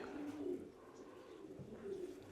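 Racing pigeons coo softly inside a loft, low rolling calls repeating a few times against faint ambient noise, with no talking.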